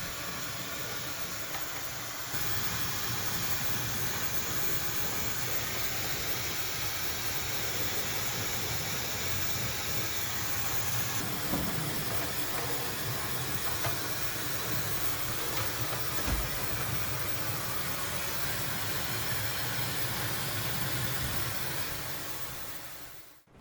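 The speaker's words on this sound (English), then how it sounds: "He quietly rested on my lap and let me finish blow-drying him." A hair dryer blows steadily on a small dog's fur, a continuous broadband whoosh of air that holds at an even level throughout with no talking.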